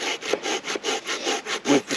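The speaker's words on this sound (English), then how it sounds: "Currently using the Barco Laplander, which is meant to be up there" A Bahco Laplander folding saw cuts through wood in a forest camp, giving close, steady back-and-forth rasping strokes, about eight in a quick even rhythm.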